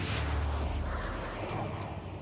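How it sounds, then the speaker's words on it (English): Deep, rumbling blasts from a US airstrike on Hill 875, a continuous low roar of explosions heard from a distance. "airstrike is coming in"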